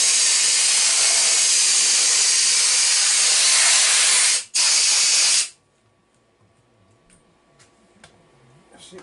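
Compressed air hose blasting a loud, steady hiss for about five seconds, briefly interrupted once, then cutting off abruptly into near silence with faint ticks and a low hum.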